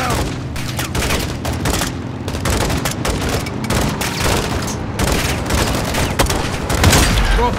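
Dense, continuous gunfire from a Call of Duty: Modern Warfare 2 (2022) battle, with launcher blasts and booming explosions, loud and relentless throughout, with a voice briefly heard under the barrage.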